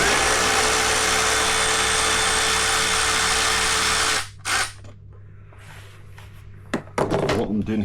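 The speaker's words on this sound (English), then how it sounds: "What I'm doing here is just removing the bolts that hold the top of the radiator in" An impact wrench or drill runs loud and steady on the bolts holding the top of a 2022 BMW S1000RR motorcycle radiator, then stops, leaving brief clanks and light handling noise.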